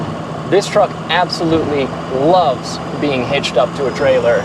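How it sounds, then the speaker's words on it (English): Second-gen Ram Cummins diesel pickup idling, heard from inside the cab: a steady low engine drone runs beneath people talking throughout. "You don't think she would like some second-gen diesel clatter?"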